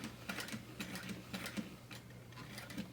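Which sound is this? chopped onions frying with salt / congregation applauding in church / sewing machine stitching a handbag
sewing machine stitching a handbag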